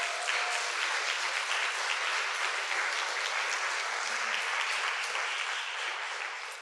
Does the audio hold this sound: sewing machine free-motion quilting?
no